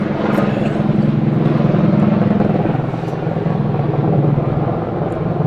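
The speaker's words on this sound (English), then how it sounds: "It's my helicopter again." A helicopter passes overhead during a croquet event, a steady loud rotor and engine drone filling the whole stretch with slight swells in level, no voices over it.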